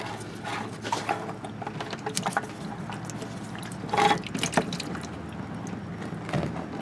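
Motor oil drains from the oil filter housing of a Toyota Sienna during an oil change, a soft trickle with scattered drips and light clinks, close by.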